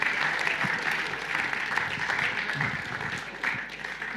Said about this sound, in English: So keep that applause going.